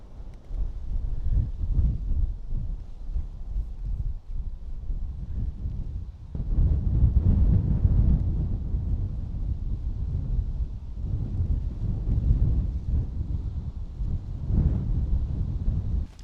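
Cold wind on an open mountainside buffets the microphone with a steady, loud low rumble that swells and eases in gusts, with no talking.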